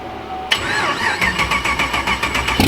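Turbocharged Camaro engine cold-starting outdoors in a neighborhood, a sudden starter catch into a loud, rough idle with rhythmic pulsing exhaust close by.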